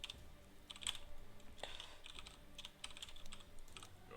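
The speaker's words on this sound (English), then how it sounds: "we are typing percent now" Close, quiet typing on a computer keyboard during a Dota 2 match, with uneven clusters of sharp key clicks and taps running throughout.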